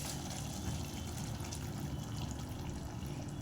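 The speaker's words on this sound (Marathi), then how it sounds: "तर आपण त्यात पाणी टाकणार आहे." Water pours steadily into fried masala in a pan for a Konkan-style fish curry, a continuous close gushing splash with no voices.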